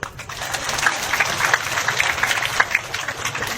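An audience claps steadily, a dense, continuous patter of many hands at moderate distance, alone without talk.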